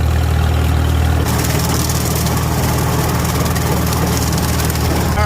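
An antique John Deere tractor engine chugs steadily in second gear while brush hogging, a loud, continuous low rumble close by that grows busier and fuller after the first second.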